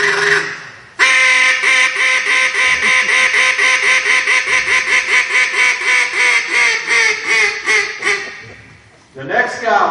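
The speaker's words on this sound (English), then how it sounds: "It's a feed call that sounds like thousands of ducks, according to them." A duck call blown nonstop as a rapid machine-gun feed call, a loud, dense run of chattering quacks lasting about eight seconds before a short break and a fresh burst at the end.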